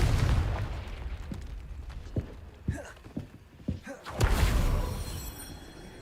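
Confringo spell explosions in Hogwarts Legacy, a series of sharp bursts and pops scattered over a rumbling background, swelling into a louder blast near the end.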